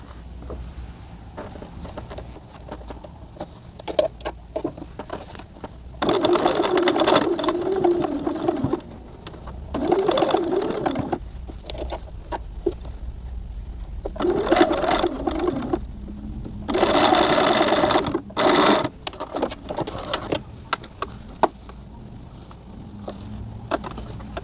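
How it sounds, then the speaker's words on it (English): Sewing machine topstitching a denim seam on a small doll jumpsuit, whirring in several bursts of a few seconds each with pauses and light clicks between. "I'm going to go ahead and top stitch the seam line here"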